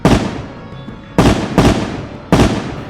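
Four sharp, loud gunshot bangs ring out, each with a short fading tail. The first is followed by a pause, then three come in quicker succession.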